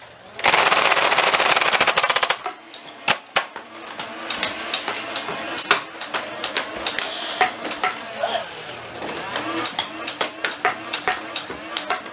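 Several Nerf full-auto blasters, including Destiny models, fire at a toy target: a dense, loud burst of rapid mechanical clatter, then scattered shots and plastic impacts with irregular bursts continuing.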